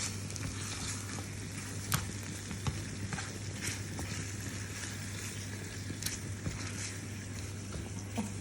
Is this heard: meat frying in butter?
yes